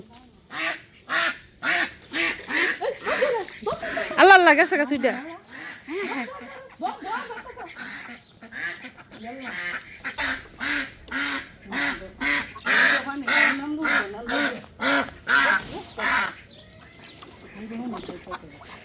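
Newly bought ducks quack in a rapid, repeated series of loud, close calls that run almost nonstop, with people talking among them.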